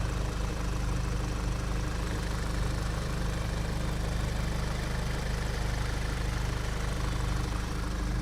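An Audi engine idles steadily with a continuous low, even rumble and faint ticking, unchanged throughout and with no voices.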